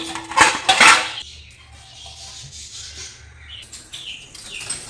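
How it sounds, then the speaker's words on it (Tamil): Plates and kitchen utensils clattering as they are stacked in a home kitchen, two sharp bright bursts of ceramic and metal clinks near the start, then quieter scattered clinks with birds chirping faintly in the background. "பிளேட்லாம் மேலே அடிக்கிடுவோம்."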